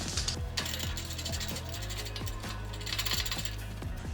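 A ratchet wrench tightening a bolt on a dump trailer door handle clicks rapidly and steadily in repeated bursts close up, with a metallic mechanical rattle and no talking.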